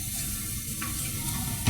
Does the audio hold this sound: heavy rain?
no